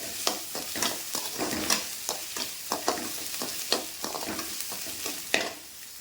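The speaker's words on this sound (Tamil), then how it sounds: "முருங்கைக்காயும் போட்டு நல்லா வதக்கிடுவோம்" Drumstick pieces being stirred and sautéed with onions in a pan for mango curry, quick repeated scraping strokes over a soft continuous sizzle, close and fairly quiet, with no voices.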